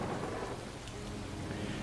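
A thunderstorm with heavy rain pouring steadily on surfaces and a deep rolling rumble of thunder, a dense, loud wash of sound throughout.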